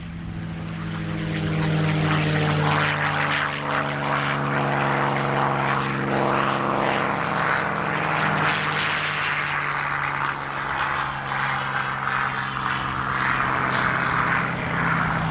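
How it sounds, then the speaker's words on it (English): A propeller airplane engine drones loud and close on its takeoff roll at a 1995 aviation heritage air show in Clark County, Indiana, a steady throbbing roar that holds throughout with no voices. "Chuck Yeager on the takeoff roll."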